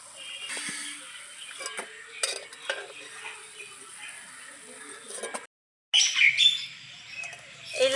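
Sago pakoras frying in oil and being turned with a spatula, with scattered metallic scrapes and clinks over a low sizzle, a brief silent gap, then louder frying and stirring; birds chirp faintly nearby.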